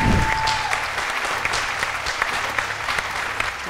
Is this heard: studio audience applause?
yes